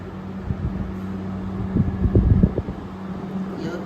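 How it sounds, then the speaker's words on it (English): A 2023 General Electric 5,000 BTU window air conditioner runs on low fan only without the compressor, giving a steady low hum and whir with some uneven rumbling bursts midway. "That's on low fan, so it's on fan only."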